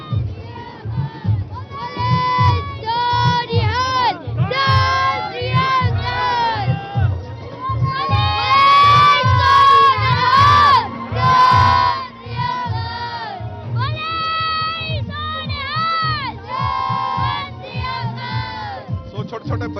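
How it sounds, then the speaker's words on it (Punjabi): Children dressed as the Panj Pyare lead a Sikh nagar kirtan, shouting jaikaras in loud bursts with a crowd answering, repeated call-and-response cheers rising and falling over about twenty seconds amid a background of crowd noise. "ਤੁਸੀਂ ਦੇਖ ਪਾ ਰਹੇ ਹੋ ਜੈਕਾਰਿਆਂ ਦੀ ਗੂੰਜ ਦੇ ਵਿੱਚ"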